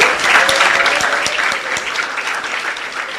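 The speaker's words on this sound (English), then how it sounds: "Clap yourself again." Seated school audience at a symposium claps together, a loud, dense burst of applause with a few sharper individual claps, easing slightly toward the end.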